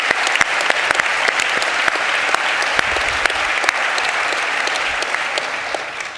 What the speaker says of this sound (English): give hands for a round of applause for Kevin Sack and Dr. Eddie Glaude.